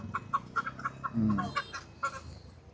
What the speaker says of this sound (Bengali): আমরা মোরগ বাছাই করতেছি